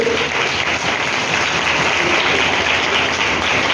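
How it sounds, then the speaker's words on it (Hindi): A congregation gives loud, sustained applause for Jesus during a church sermon, a dense, even roar of many hands clapping at once that holds steady throughout with no voices above it. "जोरदार ताली यीशु के लिए।"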